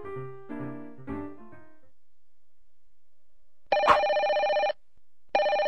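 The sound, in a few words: telephone ringing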